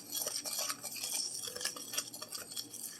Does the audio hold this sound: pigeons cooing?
no